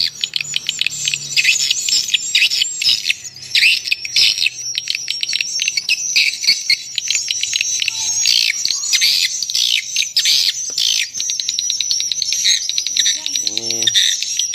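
Swiftlet calls played through Audax 61 and Audax 65 tweeter speakers, a loud, dense, continuous stream of high twittering chirps with rapid pulsing, with no talk.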